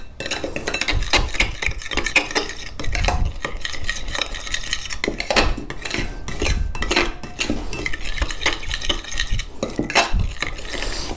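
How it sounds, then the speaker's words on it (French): Ketchup sauce for kkanpunggi-style shrimp (kkanshosaeu) is stirred in a pan: a steady run of spoon scrapes and metallic clinks against the pan, close and fairly loud, with no voices. "Mélangez bien."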